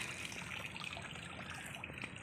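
Freshly caught giant mud crabs from a mangrove are washed in water, making a steady churning, trickling wash of water that runs continuously at low volume with no talk over it.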